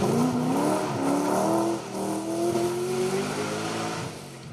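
Historic rally car accelerating hard on a special stage during a rally festival demonstration, engine note climbing through the gears, loud and close with a rough, raspy roar and no talking.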